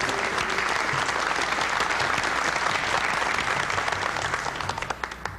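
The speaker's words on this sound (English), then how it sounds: "let's give him a big round of applause" A large awards-show audience breaks into a big round of applause, dense and sustained clapping that fills the room at close range before tapering slightly near the end, with no talk over it.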